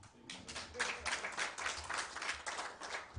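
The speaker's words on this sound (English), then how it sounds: "I think we need to clap for the two gentlemen." Scattered audience clapping at a media launch event, a modest crowd applauding steadily at low level, heard from some distance in a hall.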